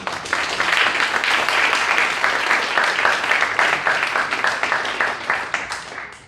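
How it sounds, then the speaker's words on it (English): Sustained audience applause at a Future Leaders Bermuda certificate ceremony, a dense, steady wash of many hands clapping that holds for several seconds before easing slightly at the end. "So give yourselves another round of applause."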